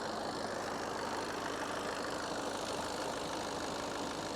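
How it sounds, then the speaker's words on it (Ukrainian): A VW Golf VII 1.6 TDI diesel engine idles steadily at a low, even level, a continuous close-up clatter with no change in pace and no voices. "Що, робота двигуна добра."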